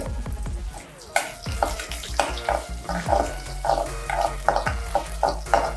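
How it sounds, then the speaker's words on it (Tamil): Vegetables sizzling in hot oil with cumin and green and dried chilies for veg kozhukattai filling, while a spoon stirs and scrapes the pan in irregular knocks, close up and lively. "தேவையான காயெல்லாம் நம்ம கொஞ்சம் வதக்கி எடுத்துக்கலாம்"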